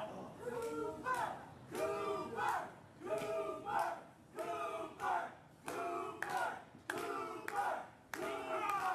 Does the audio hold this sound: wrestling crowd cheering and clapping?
yes